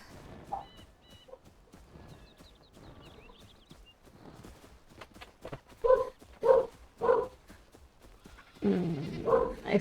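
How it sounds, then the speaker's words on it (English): A dog barking in the video game Enshrouded, several loud, evenly spaced barks close by, following quieter game ambience with faint chirps. "I almost feel like I should go see what the dog's problem is"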